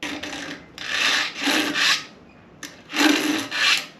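A manual chainsaw sharpener files the chain's teeth in repeated rasping strokes, four or so scraping bursts with short pauses between them, close and distinct.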